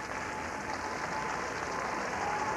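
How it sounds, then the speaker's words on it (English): Arena crowd at the 1989 World Championships applauding a young Canadian figure skating pair after their short program, a dense, continuous wash of clapping that stays even and unbroken. "Applauding the young Canadian couple, Cindy Landry and Lyndon Johnston, after their 1 minute or 2 minute 40 second short program."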